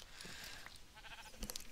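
A short, faint sheep bleat from Minecraft rises at the end over a quiet game background, with no talk.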